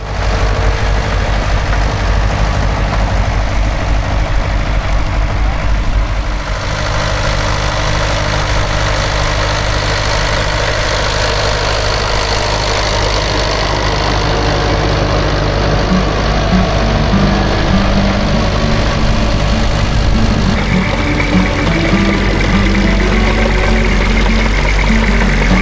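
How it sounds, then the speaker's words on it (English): Tractors ploughing at Casterton, loud continuous engine drone with a deep low rumble, shifting in tone partway through as another machine comes closer, no talking. "Back with the tractors now."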